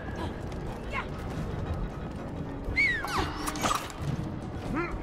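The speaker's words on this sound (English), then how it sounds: "Ah, the sweet sounds of machinery." Machinery in the video game It Takes Two clanks, creaks and whirs in a busy, layered mechanical din, with sweeping metallic squeals and sharp knocks rising above the steady background.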